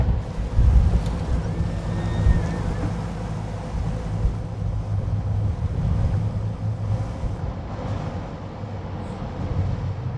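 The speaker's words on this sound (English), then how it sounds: "Oh, that wind is brutal." Strong wind roars steadily across open water around a grounded 58-foot Hatteras yacht, with buffeting gusts against the microphone and a constant low wash of waves, loud and unbroken with no voices.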